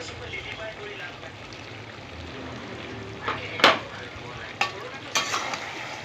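Meat browning in a pan with a mix of spices for a curry, giving a steady low sizzle throughout, broken near the end by a few sharp clatters and scrapes of stirring close by.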